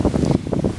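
Strong gusts of wind during a windstorm, with rain still falling, buffet the microphone in a loud, continuous rumbling roar with uneven surges.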